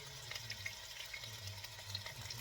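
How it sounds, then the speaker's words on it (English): Cooking juices from slow-cooked lamb chops are drained off, making a faint, steady trickling pour that runs quietly for a couple of seconds. "I'm just draining the juices."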